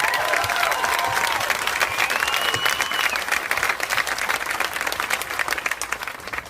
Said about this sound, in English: He introduced me, and you clapped.